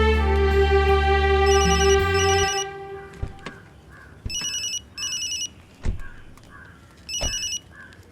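A telephone rings in bursts, first a long electronic trill over a held musical tone, then several separate rings with short pauses between, close and clear.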